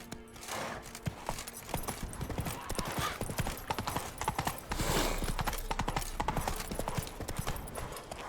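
Hooves of Roach, the horse in The Witcher 3, clip-clopping at a gallop in a fast steady rhythm, loud and close, with a brief snort or whinny mixed in and no talking.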